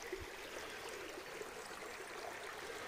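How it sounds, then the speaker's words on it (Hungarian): A Szalajka mountain stream of clear, drinkable water flows steadily through the spring Bükk hills, its soft, even rushing close by and alone. "Úgyhogy innét indul a Szalajka patak."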